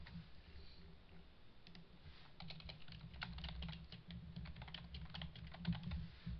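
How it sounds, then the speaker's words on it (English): Quick, irregular keyboard clicks from close by, a steady patter of typing with brief pauses over a low background hum. "let's start typing some more text in here."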